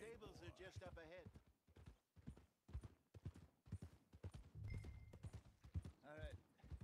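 Horse hooves clip-clop in Red Dead Redemption 2, a steady rhythmic trot of hoofbeats heard under someone talking to the horse.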